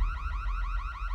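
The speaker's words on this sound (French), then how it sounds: "C'est l'alarme qui indique une présence dans la zone interdite." Warbling electronic alarm signalling someone in a forbidden zone during a night-time extreme street football game, rapid repeating up-sweeping tones, loud and steady with no talk.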